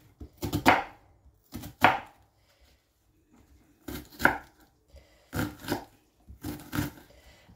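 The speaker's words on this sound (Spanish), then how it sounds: "vamos a picar las cebollitas para sofreírlas" Onions being chopped with a knife for a sofrito for shrimp: five crisp, close bursts of blade strikes on a cutting board, some in quick double taps, separated by short quiet gaps.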